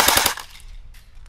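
A CYMA CM028C airsoft rifle fires a short full-auto burst, a rapid, loud, close rattle of shots at about 700 rounds a minute that stops abruptly and leaves a brief mechanical tail.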